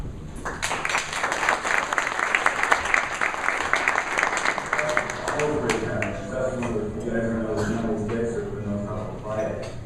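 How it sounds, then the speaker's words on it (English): An audience at a business marketing event applauds to welcome a speaker, dense clapping from a crowd that gradually thins and fades as a voice begins talking over the end. "So, nice welcome for Seth"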